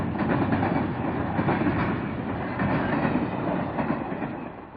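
A westbound Wolverine passenger train of 15 cars, lengthened by Christmas traffic, rolls past close and loud with a steady rumble and rhythmic clickety-clack of wheels over rail joints throughout.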